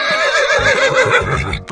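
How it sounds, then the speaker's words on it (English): A zebra character in a 3D animal slide game lets out a loud, wavering, horse-like whinny lasting under two seconds, close and alone. "Zebra."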